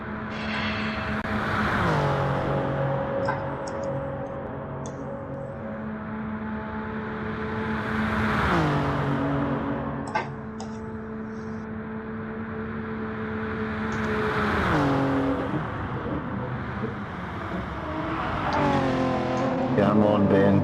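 A race car on a qualifying lap, engine drone rising and falling through repeated revving sweeps and gear changes, fairly loud and continuous, with a voice commentating over it.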